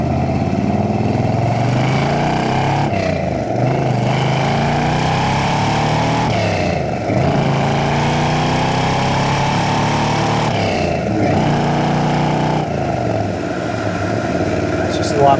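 A 1969 Chevrolet Corvette convertible with a built motor and 5-speed manual on the road, its loud engine droning and revving, with several distinct dips and surges as gears shift.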